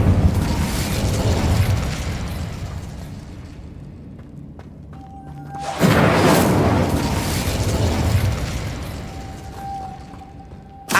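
Fiery spell blasts from Hogwarts Legacy: a sustained roaring burst fills the first half, then a sudden loud whoosh-boom near six seconds swells into another long rumbling roar, with a faint tonal ring underneath.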